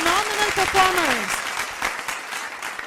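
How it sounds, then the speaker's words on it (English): A school annual day cultural show draws loud crowd applause for dance performers, continuous and roaring while a voice speaks briefly over it at the start. "let us give a roaring round of applause for our phenomenal performers"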